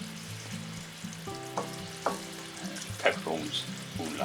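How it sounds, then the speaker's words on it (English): Pork and chicken adobo simmers in oyster and soy sauce, a soft steady sizzle and bubbling heard up close, with a few light clinks and stirring knocks and faint background music. "we'll let that simmer away for a little while"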